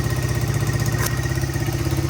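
A 1985 Honda XR100 motorcycle engine idles close by, with a steady, even, rapid thumping putter and one short brighter tick partway through.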